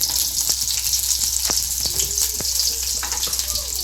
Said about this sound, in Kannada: ಈರುಳ್ಳಿ ಎಲ್ಲ ಚೆನ್ನಾಗಿ ಫ್ರೈ ಮಾಡಬೇಕು.